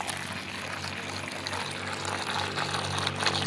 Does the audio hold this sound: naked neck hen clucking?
no